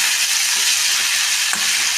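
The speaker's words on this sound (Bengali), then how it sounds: "এটা ভাজা হোক" Food frying in a pan, a steady loud sizzle with a faint clink of stirring partway through, no voices.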